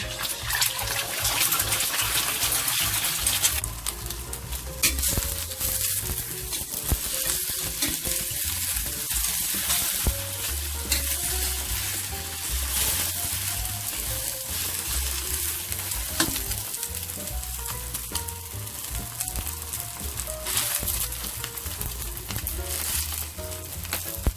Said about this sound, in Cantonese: 煎一煎呢個蛋先。